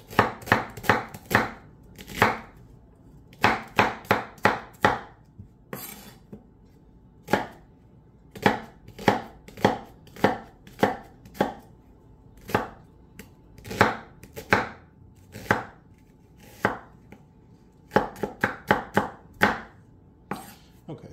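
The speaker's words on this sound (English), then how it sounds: "We're just going to cut up our onion really quickly." A knife chops an onion on a board in quick, loud, close bursts of sharp thuds, clustered in runs with brief pauses between them.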